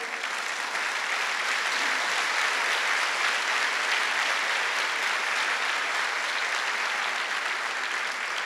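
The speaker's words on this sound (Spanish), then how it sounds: "esos aplausos sean para el Señor" A church congregation applauds for missionaries in a sustained, steady wash of many hands clapping at once, even in loudness throughout, with no talk over it.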